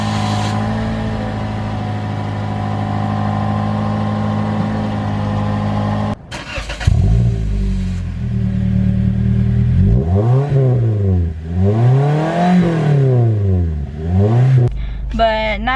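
A 2015 Toyota Corolla LE fitted with a Borla exhaust idles, briefly cuts out and restarts, then revs repeatedly, with rising and falling engine tones in three or four close, loud swells.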